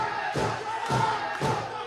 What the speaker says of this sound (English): And the crowd rallying behind Dragon.